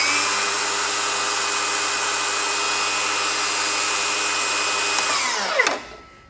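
A Milwaukee M18 cordless saw motor runs at steady high speed, loud and close, with a whining tone, then is switched off and winds down quickly to silence.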